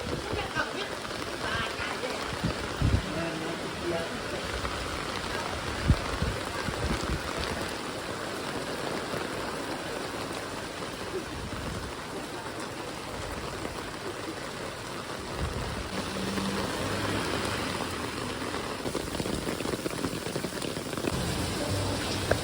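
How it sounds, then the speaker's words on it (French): Steady rain falling outdoors in Luang Prabang, Laos, a continuous hiss of drops on surfaces with occasional louder splashes, close and constant throughout, with a person speaking now and then over it. "ça se met de plus en plus à pleuvoir."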